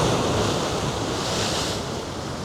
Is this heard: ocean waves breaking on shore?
yes